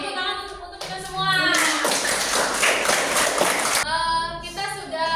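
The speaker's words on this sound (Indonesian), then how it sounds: "Tepuk tangan untuk kita semua" Students in a classroom clap together, a burst of dense clapping that swells in the middle and tapers off, with a voice speaking before and after the burst.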